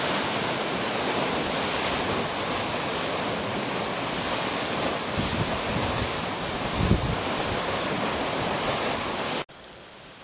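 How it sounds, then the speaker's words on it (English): Steady roar of waves breaking in a lakeshore cove, loud and continuous with heavy wind buffeting the microphone, cutting off abruptly near the end. "I guess the cove that all the waves break in on"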